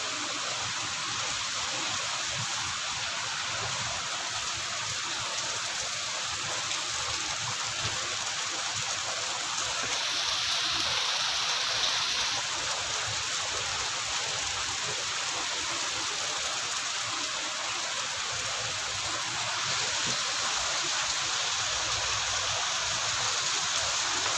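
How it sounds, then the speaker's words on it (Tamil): Steady heavy rain falls in Mayiladuthurai during a third straight day of downpour, a continuous dense hiss with no pauses, constant in level throughout and without any voices. "மூன்றாவது நாளாக மழை தொடர்கிறது மயிலாடுதுறையில்"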